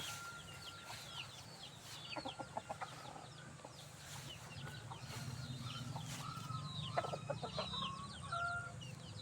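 Bull stag gamefowl roosters cluck and call in scattered short bursts over a steady farmyard background, with a faint distant crow among them.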